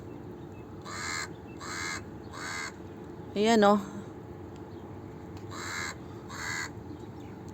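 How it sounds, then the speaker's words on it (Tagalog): Several crows caw in short, regular bursts nearby beside a Dubai canal, with a brief voice calling out in between. "Ang dami kong alagang uwak dito"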